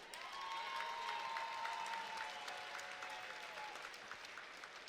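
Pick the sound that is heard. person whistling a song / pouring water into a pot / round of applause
round of applause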